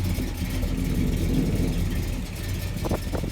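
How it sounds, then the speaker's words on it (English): A 1972 Chevrolet Monte Carlo with a worn, rough-running motor idles close by, a low uneven rumble that wavers as if about to stall, with no talking. "Things sound like it's gonna die because the motor not good."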